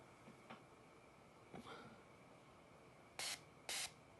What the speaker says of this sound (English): I'm going to go spray this all over the rest of my dry hair.